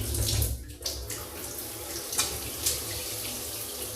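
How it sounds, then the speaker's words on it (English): A hotel shower runs with weak pressure, giving a soft, steady water hiss close by with a few small splashes and bumps, no voices. "Yes, I can confirm the shower pressure is rubbish."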